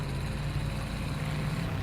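An enemy aircraft's engine drones overhead in the War Thunder tank battle, a steady low rumble that holds at constant loudness with no voices over it.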